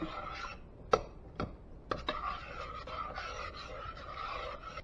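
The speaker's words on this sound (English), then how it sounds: "let's go ahead and give that a good stir" Cooked blue crab meat being stirred into a pot of crab stew, heard as a few sharp clacks and scraping strokes over a low continuous background. No one speaks.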